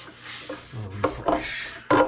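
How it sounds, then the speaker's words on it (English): A rag is rubbed along the hoses of a Branson 3725H compact tractor during an air filter and oil change, producing close, scuffing wipes in a few uneven strokes with short pauses between them. "Wipe down some hoses while I'm in here"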